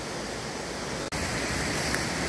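River water rushes fast over boulders in old forest, a steady broadband roar with white-water hiss, close and constant with only a momentary dropout partway through.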